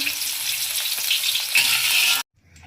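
Capsicum roasts in a frying pan with a bright, steady sizzle and crackle that runs loud, then cuts off abruptly near the end, leaving brief faint stirring.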